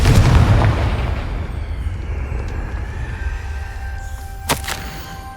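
A Confringo fire spell explosion in the Hogwarts Legacy video game, heard as a loud, heavy boom that fades into a long rumbling decay, with a short sharp crack near the end.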